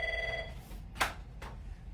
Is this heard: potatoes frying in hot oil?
no